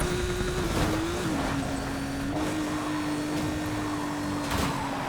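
A Porsche 911 RSR's engine in Need for Speed Payback, accelerating with NOS as a steady, sustained high drone that dips briefly and then holds constant, with muffled game noise underneath.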